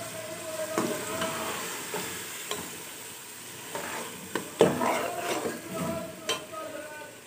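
Minced meat with hand-torn fenugreek leaves is stir-fried in a pan for qeema matar methi, a steady low sizzle with intermittent stirring scrapes and clatters, close and moderate in loudness, no talk.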